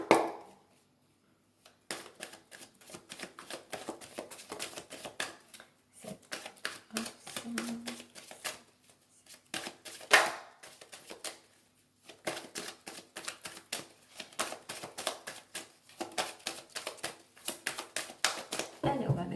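Tarot and oracle cards, a mirror-themed oracle deck, are shuffled and dealt onto a surface, giving a steady stream of crisp papery flicks and taps with short pauses between runs.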